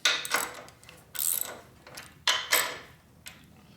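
Ratcheting wrench clicks while torquing a bolt on a 2004 Harley-Davidson FLHT Twin Cam touring transmission, several short bursts of mechanical clicking spaced apart, close and moderately loud.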